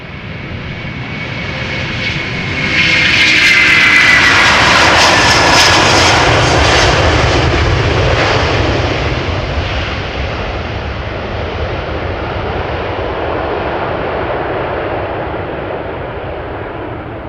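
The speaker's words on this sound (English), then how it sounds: "Next up, Delta Airlines flight 257 outbound to Boston." Delta Airlines airliner at Amsterdam Schiphol Airport, jet engines roaring loud and close as it passes, swelling to a peak then holding a broad rumbling drone as it recedes.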